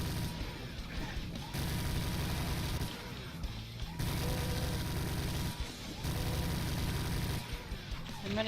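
Doom 2 gameplay with bursts of weapon fire, loud and repeated in clusters, crashing impacts layered over continuous game noise with brief quieter gaps.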